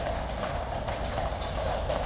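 Horses' hooves clip-clopping on hard ground at Horse Guards in London, a steady close rhythmic clatter of several horses moving past, with faint crowd murmur behind.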